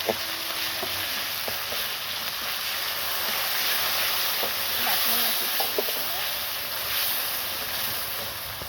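Cumin seeds fry in oil over a village clay stove, a steady close sizzle and crackle with a few soft knocks and faint background sounds.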